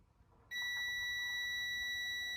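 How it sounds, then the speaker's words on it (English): A multimeter continuity test on a Samsung stove convection element gives a steady, high-pitched electronic beep that switches on abruptly and holds continuously, loud and close, against faint background noise. "You got a beeping noise that indicates that your convection element is good."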